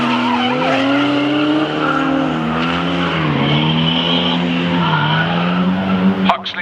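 Drifting cars at a Castle Combe track day, tires squealing loudly and continuously with wavering pitch as the cars slide, engine roar underneath, cutting off abruptly near the end.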